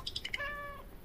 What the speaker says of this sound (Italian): Il gatto sembra godere la tua presenza